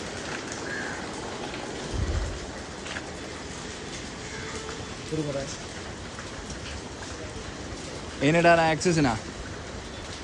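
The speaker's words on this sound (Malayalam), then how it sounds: "നല്ല മഴയാണ്." Heavy rain falls in a street market in Kota, making a steady dense hiss throughout, with a few passing vehicle or horn sounds and people talking over it.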